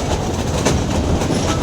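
Steady clickety-clack of a Gir passenger train running from Visavadar, a close, continuous rail rumble with rhythmic wheel beats over a short stretch.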